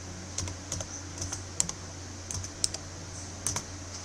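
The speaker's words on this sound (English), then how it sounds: "you go right into this field, click right into it, and you type your answer." Typing an answer on a computer keyboard, a run of light, irregular key clicks in short bursts, close and quiet with no talk.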